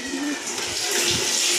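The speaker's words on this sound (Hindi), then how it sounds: "वहाँ पानी भर रहा है" A tap runs water into a bucket for bathing, a loud, close, steady rushing fill that swells slightly as it goes, with no talk.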